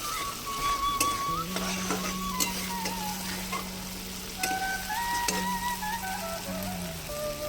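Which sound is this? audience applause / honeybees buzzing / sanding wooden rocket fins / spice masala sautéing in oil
spice masala sautéing in oil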